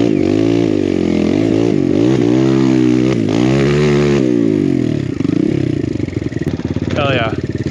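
Kawasaki KLX170RF dirt bike engine revving hard as it climbs uphill on an enduro trail, a loud close buzzing drone rising and falling through gear changes, with clattering and a brief voice near the end.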